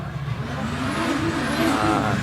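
A race car climbing the Prescott hillclimb course during a British Championship event, a steady engine roar rising slightly in pitch as it approaches, heard at moderate distance and continuous throughout.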